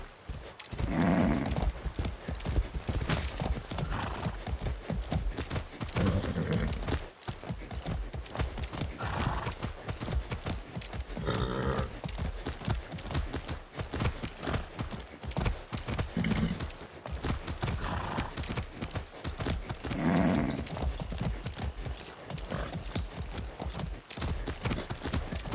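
Horse hooves clop in a steady, close, continuous rhythm in the Far Cry 6 video game, with occasional whinnies breaking in at intervals.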